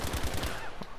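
Rapid automatic gunfire in the shooter game Battlefield V rattles off in a quick burst of about five close, heavy shots over a dense battle din, with no talk.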